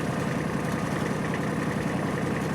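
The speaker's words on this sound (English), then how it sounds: "Let me see what my tractor will do before we do all that with yours." A tractor engine runs steadily at a low, rumbling idle, close and constant throughout, with no voices.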